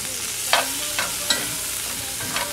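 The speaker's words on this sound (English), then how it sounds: "Give this a nice stir." Garlic, ginger and red pepper stirred in a hot pan, several sharp spoon scrapes spaced across a continuous bright sizzle, close and clear without speech.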